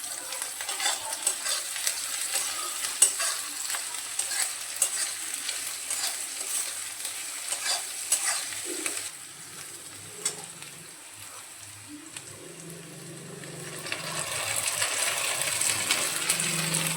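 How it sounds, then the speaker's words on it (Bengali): Onions frying in a pan with ginger, garlic and green chilli paste for Bengali chicken kosha, a steady close sizzle with scraping stirs throughout, quieter in the middle then building again. "তারপর পেঁয়াজটাকে ভালো করে ভেজে নিয়ে এই আদা, রসুন আর কাঁচা লঙ্কার পেস্টটা দিয়েও ভালো করে ভেজে নেব।"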